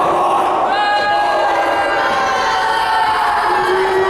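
A loud wrestling arena crowd at a TWF show voices its displeasure. The sustained roar of many voices holds steady throughout and carries jeers and booing tones.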